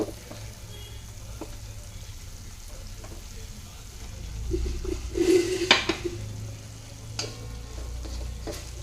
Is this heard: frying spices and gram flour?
yes